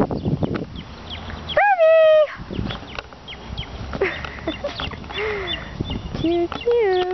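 A puppy gives a few high, wavering whines and yelps among scattered scuffling noises, with people talking around it.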